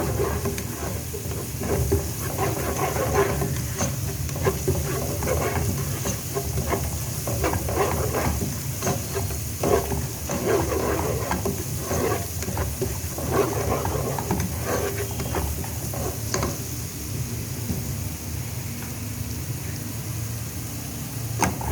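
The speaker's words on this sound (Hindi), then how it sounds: "1 चम्मच मैंने लहसुन ऐड कर दिया। अब 1 मिनट मैं इसको ज़रा भूनूंगी।" Chopped garlic fries in oil in a pan for chicken fried rice, a steady close sizzle with soft stirring and scraping running throughout, with no voices over it.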